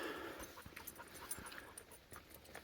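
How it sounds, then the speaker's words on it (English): A dog pants excitedly on a hiking trail in the Flat Tops Wilderness near Trappers Lake, quick rhythmic breaths close by and fairly soft, with a faint whimper, no talking. "Brought my dog with me today. She's really excited."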